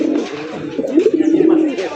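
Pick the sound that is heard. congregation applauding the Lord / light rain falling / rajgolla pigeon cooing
rajgolla pigeon cooing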